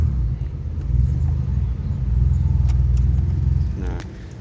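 A 1990 Nissan Sentra B12 GB SGX engine idles close by with a steady low rumble, a few light clicks and rattles sitting on top of it.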